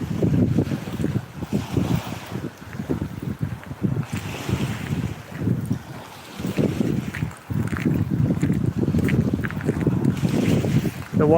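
Surf washing onto Progreso beach in Yucatán, a continuous rolling roar of waves close by, mixed with gusty wind buffeting the microphone throughout.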